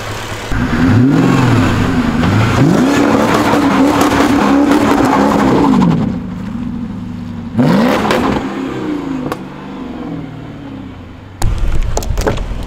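A Mercedes S-Class with a 5.0 V8 and manual gearbox revs hard while drifting, rising and falling in pitch, with bursts of tire noise, then drops to a quieter idle before roaring up again at the end.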